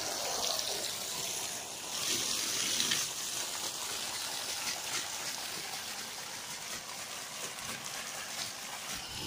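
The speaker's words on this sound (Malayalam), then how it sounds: "അതാ വെള്ളം വരുന്നുണ്ട്." Water gushes forcefully from the outlet of a 1.5 HP motor pump set, a steady rushing flow that surges slightly at first and then holds even, loud and close, with no voices.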